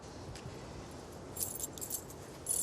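Door keys jangle in a domestic scene, a light metallic rattling in short bursts around the middle and end, fairly quiet against a low background hum.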